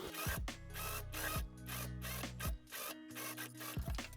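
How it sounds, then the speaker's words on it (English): Sewing machine stitching a seam in cotton facing fabric, a close, rapid mechanical whirring and clatter that runs in bursts and briefly pauses between runs, with no talk. "we're just going to put right sides together and sew down this line right here"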